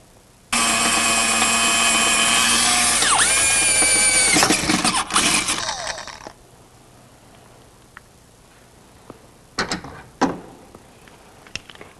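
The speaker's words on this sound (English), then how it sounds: "Now, you drill a hole the same size as before." A power drill bores a hole into a metal car body panel, a loud whining grind with shifting pitch for several seconds, then winding down, followed by a few sharp metallic clicks and taps.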